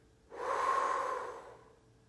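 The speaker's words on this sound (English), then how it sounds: "Exhale through the mouth." A single slow exhale through the mouth during a calm meditation, breathy and close, swelling over about a second and fading gently, with no talk.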